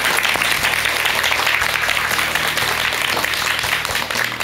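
An audience at a lecture on multicultural families bursts into loud, dense applause, a continuous crowd of clapping hands that holds steady throughout.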